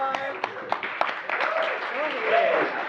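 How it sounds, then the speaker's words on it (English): Audience applause after a song at a town hall symposium, a few sharp claps rising into a steady spread of clapping, with voices calling out and talking over it. "Give yourselves a round of applause."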